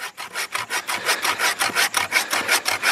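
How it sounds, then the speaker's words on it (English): A folding saw cuts through firewood twigs with a quick, steady rhythm of about a dozen rasping back-and-forth strokes, close and clear, with no voices. "cutting firewood with this saw is no big deal"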